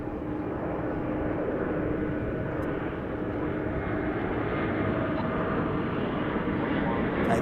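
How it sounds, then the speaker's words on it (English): A McDonnell Douglas MD-11 cargo jet approaching at a busy international airport, a loud, steady broadband engine roar that holds throughout and swells slightly toward the end, with no break in the rumble. "So now we got an MD-11 headed our way"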